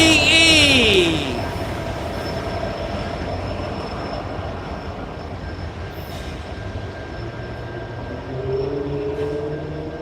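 Norfolk Southern train NS370 heads north behind heritage locomotive NS 8099 in Southern livery, passing close with a loud, steady rolling rumble of wheels and cars, opening with a falling tonal sweep and ending with a rising one.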